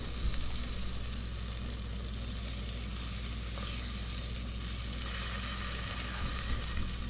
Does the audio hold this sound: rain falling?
no